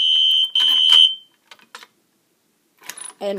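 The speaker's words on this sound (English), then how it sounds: "It turns off the smoke detector." A shrill, piercing smoke alarm shrieks in two loud bursts, then cuts out, leaving a few faint clicks and a brief bit of talking.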